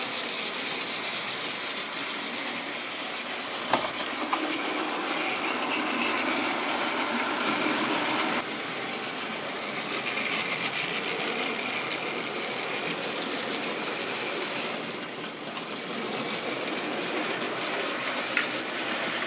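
A model railway train on a layout runs past close by, giving a steady, continuous rolling rumble with faint clicking over the track joints throughout, with no talk.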